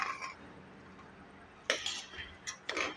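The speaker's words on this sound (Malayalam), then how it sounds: "നമുക്കൊന്ന് ഇളക്കി നോക്കാം" A spoon stirs cooked rice upma in a pot, giving a few short metallic clinks and scrapes in the second half over an otherwise quiet background.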